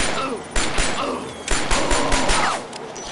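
Gunfire in the Shadow Ops: Red Mercury video game, several sharp separate shots and thuds spread across a few seconds, fairly close and loud over a noisy battle background.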